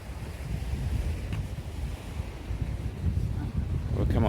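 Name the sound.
ocean waves by the boardwalk in Spain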